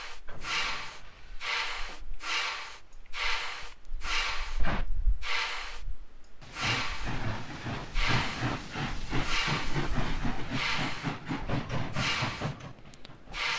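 Steam locomotive in the Trainz railway simulator hissing in a long series of rhythmic bursts, each puff of steam venting loudly and close, with a low rumbling chuff underneath and no talk.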